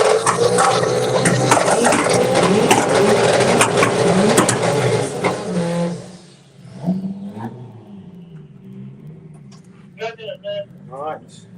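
Vauxhall Corsa and a tidy Ford Escort drag racing, loud engines roaring and revving together for about six seconds before dropping away to quieter distant engine noise and brief sounds.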